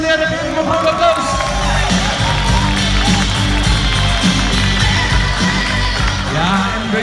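An outdoor crowd claps and cheers steadily for a football player, a thick continuous wash of applause and murmuring voices lasting several seconds, with talk mixed in underneath.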